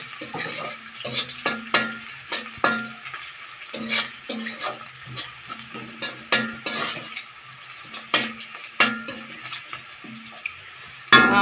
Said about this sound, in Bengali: এই রসুন কুচিটা একটুখানি ভাজা করে নেব